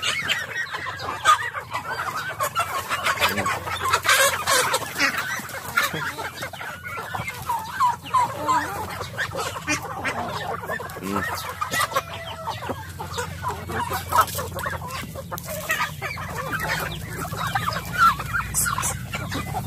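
Backyard farm chickens squabbling over feed, a dense, constant chorus of clucks, squawks and agitated calls close by, with a faint crow or gobble among them and no clear talking.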